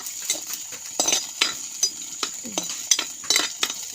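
Tomatoes sauté with green chillies in a pan for a mackerel curry with coriander leaves and drumstick. A spoon scrapes and clinks as it stirs, in irregular close taps over a faint sizzle.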